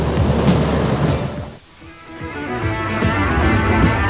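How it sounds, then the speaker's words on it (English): Strong ocean surf at a windsurfing competition, a loud continuous roar of breaking waves that briefly dips, then swells back to full strength. "the waves are so strong that the boys have to be put into position like helicopters"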